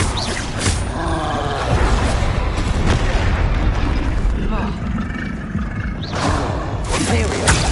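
Rapid spell blasts and magical impacts crack and boom in the Hogwarts Legacy video game, dense and loud throughout, with a voice speaking spell names over the barrage.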